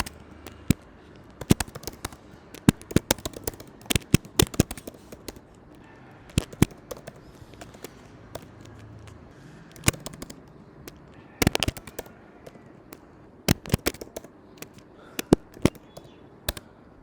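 Names typed on a computer keyboard into an Excel spreadsheet column, heard as irregular bursts of sharp, close key clicks with short pauses between words.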